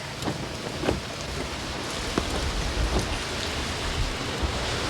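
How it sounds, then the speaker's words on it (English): Steady rain patters on a surface with a dense, even hiss, punctuated by a few louder drops or taps, heard from inside a vehicle stopped with its four-way flashers on at a gate; no talking. "It's now raining."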